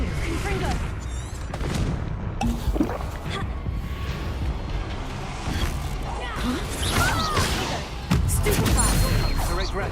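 A Confringo blasting curse goes off in the Hogwarts Legacy video game, with booming explosion bursts amid dense combat noise and spell effects, while voices speak over the fight.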